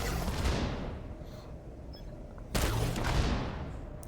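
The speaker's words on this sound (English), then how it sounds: "Let's shoot 5 rounds." Gunfire from five rounds in Tom Clancy's The Division 2 video game, heard as two loud bursts, the first near the start and the second just after midway, each trailing off into reverberant decay with no talk.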